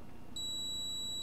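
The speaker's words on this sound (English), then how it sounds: "Beep, beep, beep, beep." An electronic device gives one continuous high-pitched beep that starts abruptly and holds steady to the end, clear and loud over a quiet background.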